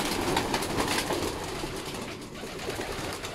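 Racing pigeons are released during a training toss in San Leonardo, with close cooing and some wing flutter over an outdoor background of steady noise.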